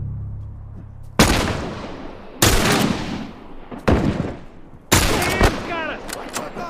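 Gunfire in The Last of Us video game: four loud, sharp shots spaced about a second apart, each with a long decaying echo tail, over a low background hum.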